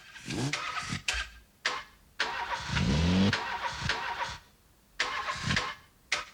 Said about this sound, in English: You can hear there they're sampling like engines and stuff.